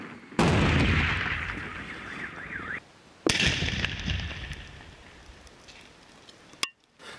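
Controlled detonation of an unexploded 80mm mortar shell in eastern Ukraine: a sharp, loud blast followed by a long rumbling roar and debris fall, then a second heavy blast with a rolling decay and a final crack.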